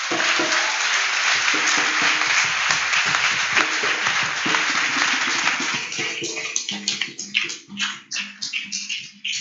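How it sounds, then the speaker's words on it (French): Congregation at a church service applauding and cheering in acclaim of Jesus Christ, a dense sustained wash of many hands clapping that thins toward the end into scattered, uneven claps. "Alors acclame Jésus-Christ."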